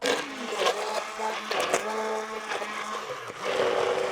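An immersion blender whirs through lentil carrot soup with a steady motor drone that dips and rises in pitch as it churns, close and loud, with no one speaking.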